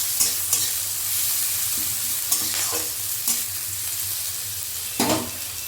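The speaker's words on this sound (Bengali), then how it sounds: "পেঁয়াজটা লালচে হয়ে ভাজা হয়ে এসেছে" Chopped onion and chili frying in a pan until reddish, a steady loud sizzle with several sharp scrapes of stirring throughout and no voices.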